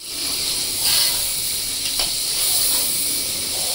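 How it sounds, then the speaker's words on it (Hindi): Onions frying in hot oil until they turn brown, cooked for an iftar biryani, make a steady, loud sizzle and hiss close by that carries on without a break. "ये हमारा प्याज ब्राउन हो रहा"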